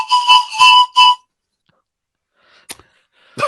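Three sharp, bright whistles come in quick succession, then silence and a couple of faint brief sounds at the end.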